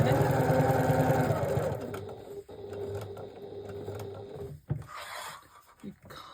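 A sewing machine stitches polyurethane laminate (PUL) fabric for a snack bag lining, running steadily and fairly loud for several seconds before stopping, with faint handling sounds afterward.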